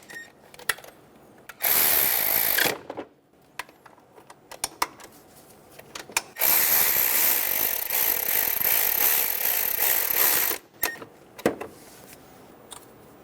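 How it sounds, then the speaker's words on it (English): Valve cover bolts on a 2003-2007 Honda Accord 3.0L V6 being snugged down in a cross pattern with a power tool, two sustained whirring bursts of a few seconds each separated by quiet clicks and handling noises, close up, no talking. "Snug them down. We're going to snug these in a cross pattern."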